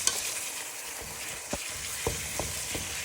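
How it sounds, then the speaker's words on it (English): Beef mince stir-fries in oil for a Chinese beef stir fry, a steady sizzle broken by several light scrapes and taps as it is turned in the pan. "Just keep turning it, so it all gets nicely coated in the oil."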